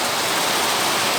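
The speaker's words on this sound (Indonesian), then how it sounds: "hujan lagi" Steady rain falling outside a workshop where an airgun is being assembled, a constant soft hiss of drops without pauses or voices over the short stretch.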